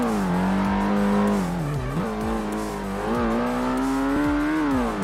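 A Ford budget car's engine howls steadily in Ford Racing 1, its pitch dipping and climbing through gear changes and corners, close and loud throughout with no talk.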